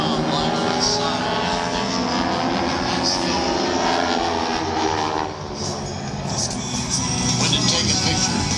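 A plane from the Aeroshell aerobatic team flies over at a 2022 airshow in Vidalia, Georgia, its engine a loud, sustained drone that dips briefly and swells again, with a voice talking over it.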